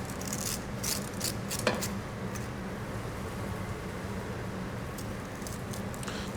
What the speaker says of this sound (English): I just take a spoon and I scrape out the seeds